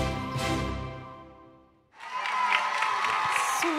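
Audience applause at the Rognac Dance Awards 2022, a dance show on stage, breaking out loud and dense after a brief lull and sustained with a bright crowd wash of clapping.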